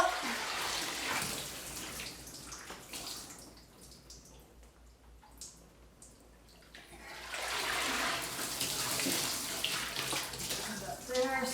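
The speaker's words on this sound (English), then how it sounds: "This is the second soap and hot water wash." Shetland fleece being washed in hot soapy water, sloshing and pouring water that swells, dips to quiet trickling in the middle, then surges again, with faint talk in the background.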